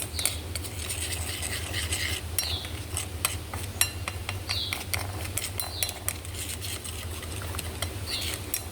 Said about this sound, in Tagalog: Tapos, i-mix na natin.